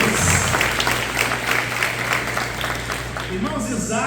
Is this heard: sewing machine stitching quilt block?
no